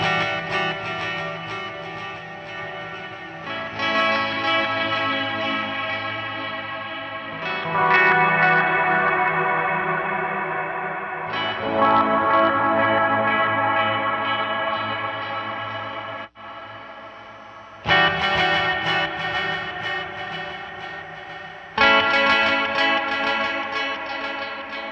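Electric guitar played through an Eventide H90 with delay feeding into reverb in series, repeats washing into a long diffuse tail; sustained chords change every few seconds, loud and continuous with a brief drop near the middle.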